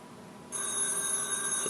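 A mobile phone starts ringing partway through, its steady electronic ringtone sounding clearly but at low volume in a quiet room.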